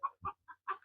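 Farm chickens clucking close by, four short separate clucks in quick succession under a second, fairly soft, with no talking.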